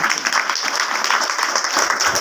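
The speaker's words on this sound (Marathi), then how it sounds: "वा वा टाळ्या वाजवा." Audience at a kirtan bursts into brisk, lively applause, many hands clapping together in a dense, even patter that continues at the same loudness throughout.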